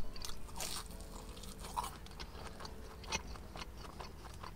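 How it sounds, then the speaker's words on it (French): Crunchy fried-dough croustillons bought at a funfair are bitten and chewed up close, giving a steady run of crackling crunches and moist chewing with no talking. "Concernant ces croustillons, eh ben, je trouve qu'ils croustillent pas beaucoup."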